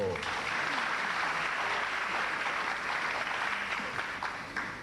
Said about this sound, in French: On peut applaudir pour elle quand même, non?